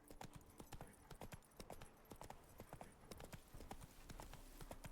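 Roach, a horse in The Witcher 3: Blood and Wine, gallops with rapid, hard hoof clip-clops in an uneven rhythm, steady and fairly close, faint in level and free of talk.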